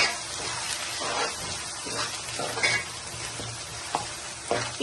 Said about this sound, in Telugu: 2 స్పూన్లు కారం, ఇవి మొత్తం చక్కగా ఏగేలాగా కలుపుకోండి.